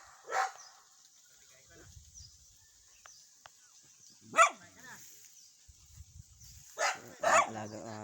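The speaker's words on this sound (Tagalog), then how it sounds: "Alagang aso." A pet dog barks in a few separate short bursts spread across a quiet outdoor scene, with a faint steady hum and occasional small noises in between.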